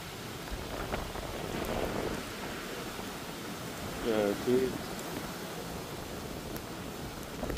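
Steady rain falling through a typhoon at night, a continuous hiss holding throughout, with a couple of brief louder spots midway and faint voices in the background.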